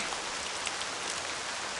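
Steady rain pours on a surface outside an inn, a dense, even patter at moderate volume with a sharp knock right at the end.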